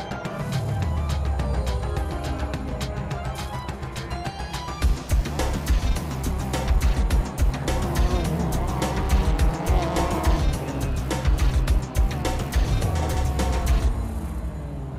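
Prototype Lites race cars, powered by Mazda, roar around Mazda Raceway Laguna Seca, with loud engines rising and falling as cars pass close by in quick succession, plus occasional tire noise.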